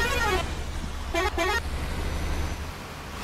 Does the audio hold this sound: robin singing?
no